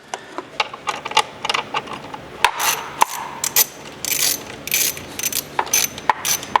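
Ratchet clicking in short bursts while hose clamps are loosened on the post-MAF intake hose of a 2013-21 Subaru BRZ/Toyota FRS/GR86, close-up and fairly loud, with pauses between runs of rapid clicks.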